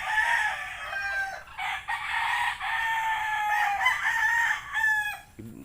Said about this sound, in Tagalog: Ini mo na manok.